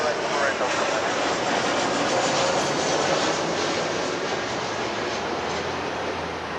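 A Delta airliner landing on runway 24 right at LAX makes a loud, continuous broadband jet roar that holds steady throughout and is heard from fairly close, with no voices over it.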